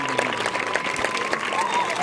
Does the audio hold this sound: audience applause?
yes